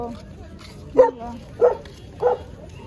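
A dog barks three times at a steady pace, fairly close and clear, against quiet outdoor background noise during a seaside trip.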